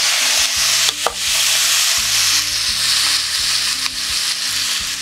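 Medium tomato pieces frying loudly in hot oil with whole spices, a dense continuous sizzle close by, punctuated by a few stirring scrapes.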